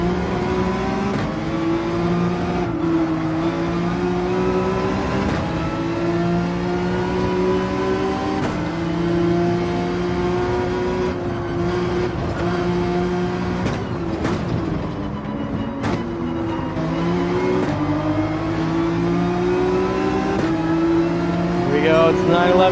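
A Nissan GT-R in a Gran Turismo 7 race at Dragon Trail revs hard through its gears, a loud, steady engine whine rising and falling with each shift, while a person talks over it.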